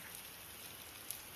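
Steady rain falls outdoors as a soft, even hiss that stays faint and unbroken throughout, with no voices over it.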